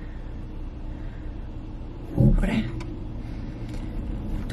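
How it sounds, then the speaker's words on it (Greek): Cars rolling through a narrow street, a steady low traffic rumble with one vehicle swelling louder as it passes close by, while a person speaks briefly. "Έρχονται αυτοκίνητα."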